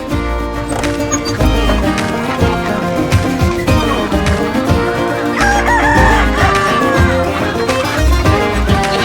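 Farm chickens and a rooster let out in the morning fill the air with clucking and repeated crowing, busy and close, with other fowl mixed in.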